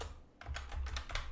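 Rapid clusters of computer keyboard keystrokes as a SUMIF formula is typed into a spreadsheet during a computer skills exam exercise, close and clear with short pauses between bursts.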